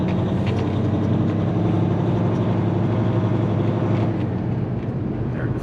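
A vehicle engine runs steadily and close by on a cold early morning with cold oil, working through gear changes from first toward third and fourth, with a constant low drone and no voices.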